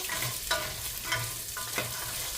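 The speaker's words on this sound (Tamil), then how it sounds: "இந்த வால்நட்டு இந்த மூண்டையும் சேர்த்து நல்லா கோல்டன் ப்ரௌன் வெறும் வரையும் நாங்கள் வறுத்து எடுத்துக்கொள்ளுவோம் இந்த நெய்யிலேயே வறுத்து கொள்ளுவோம்" Nuts and walnuts fry in ghee with a steady hiss, and a few soft stirring scrapes sound close by.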